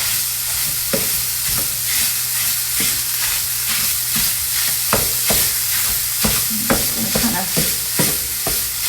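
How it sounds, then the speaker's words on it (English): Zucchini and sausage cook for a breakfast casserole in a hot pan with a steady sizzle, broken by repeated scraping and tapping as a utensil stirs and turns the pieces. "I'm going to cook the zucchini a little bit with the sausage, just to get it going."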